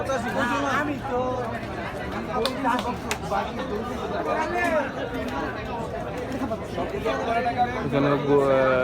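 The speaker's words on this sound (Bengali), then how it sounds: "বেশ সুন্দর একটা গরু এক লাখ ছাপ্পান্নতে গরুটা নিয়ে গেল প্রচুর ভিড় হাটে প্রচুর ভিড়" Dense crowd chatter and overlapping voices fill a busy cattle market at Postogola Shoshan Ghat, a continuous near babble of many people with louder individual shouts and calls rising above the general hubbub.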